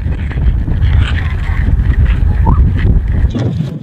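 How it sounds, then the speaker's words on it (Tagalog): Strong wind buffets the microphone on a small island in the sea near Singapore, a loud continuous roar with gusts and faint background sounds. "Grabe guys ang hangin."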